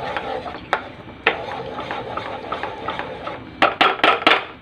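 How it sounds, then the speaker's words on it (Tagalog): A utensil scrapes and knocks against a cooking pot while stirring a chicken dish, with soft scraping and a few sharp taps, then a quick cluster of clacks near the end. "Haluin natin."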